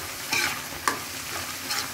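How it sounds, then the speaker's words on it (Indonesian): Thick Mie Aceh spice paste made with homemade chili powder fries and is stirred in a pan, a dense sizzle broken by a few scraping strokes of the spoon and one sharp knock. "Kita masak sampai nanti dia agak kering lagi ya, sampai jangan lupa diaduk-aduk"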